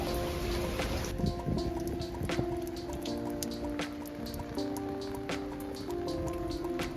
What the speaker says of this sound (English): gonna wait a little bit because the rain's kicking in